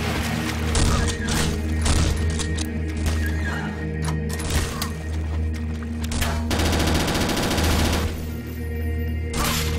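Rapid gunfire bursts in the zombie shooter game BrainBread 2, loud and dense over a steady droning background with layered game effects, continuing without pause through the whole stretch.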